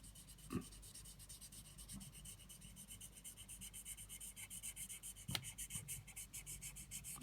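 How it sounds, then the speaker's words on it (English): Steady scratchy rubbing of an embossing pen traced around a handmade shabby chic card, continuous and close with a gentle rhythmic texture and a couple of soft knocks, no voice. "go around all of that with my embossing pen"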